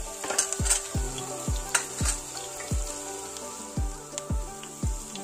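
Chopped ginger and garlic fry in a pan with cumin seeds while a spoon stirs them, giving a steady sizzle under regular knocking strokes of about one per second, close and clear, with no voices.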